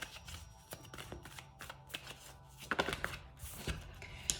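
Tarot cards shuffled by hand in a quiet room, a steady run of soft, close riffling and slapping bursts with brief pauses between them.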